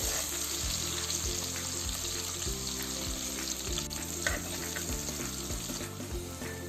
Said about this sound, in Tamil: எண்ணெய் பாயில் ஆகிடுச்சு. வெங்காயம் ஆட் பண்ண போகிறேன்.